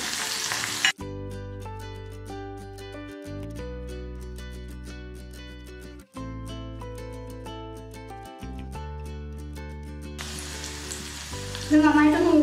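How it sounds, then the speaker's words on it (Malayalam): Chopped ginger, garlic and green chili sautéing in a pan for lemon pickle, a brief sizzle at the start and a clearer crackling sizzle near the end, with instrumental music filling the middle. "അരിഞ്ഞു വെച്ചിരിക്കുന്ന ഇഞ്ചി, വെളുത്തുള്ളി, പച്ചമുളകും കൂടെ ആഡ് ചെയ്തിട്ട് ഒന്ന് വഴറ്റിയെടുക്കണം"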